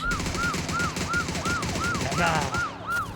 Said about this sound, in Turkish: Havaya mı sıktı harbiden ya?